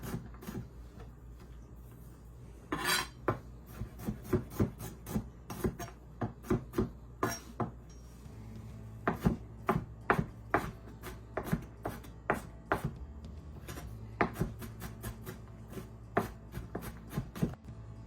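A knife mincing garlic cloves on a cutting board while preparing baba ganoush, heard as many sharp, quick chopping taps in uneven bursts, close and fairly crisp, with no talking.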